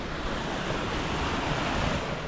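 A small stream runs through a ravine in the dry, arid Clape massif, giving a steady, loud rush of flowing water that fills the whole short stretch without pause.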